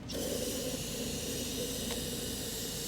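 Carb cleaner sprays into a 1976 Honda CB550 motorcycle as a steady, close hiss that lasts the whole time, with one faint brief tick partway through.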